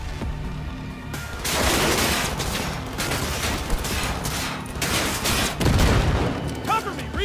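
Gunfire in Cyberpunk 2077 during a firefight, heavy and continuous with dense overlapping shots and booms filling the whole stretch, a few sharper bursts standing out, with a voice talking over it.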